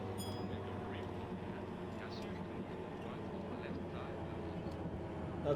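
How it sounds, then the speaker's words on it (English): A train rumbles past in a train-driving video game, a steady low mechanical drone with a faint higher whine over it, continuous and fairly close throughout. "Oh, finally! The orange train!"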